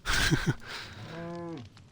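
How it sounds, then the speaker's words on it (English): A cow gives one drawn-out, mid-pitched moo partway through. Shuffling and rustling noises come before it, and nobody speaks. "Why is there a cow here?"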